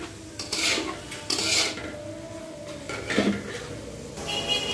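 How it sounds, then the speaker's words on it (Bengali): Chopped onion tossed into hot oil and stirred for chicken biryani, with clattering spatula scrapes against the pan in bursts and a soft sizzle underneath, close and fairly loud. "এই তেলের মধ্যেই আমি আরো কিছুটা পেঁয়াজ কুচি দিয়ে দিচ্ছি।"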